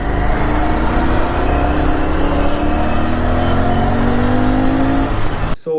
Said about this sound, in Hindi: स्टॉक एग्जॉस्ट में इसको चलाने का अलग ही मज़ा है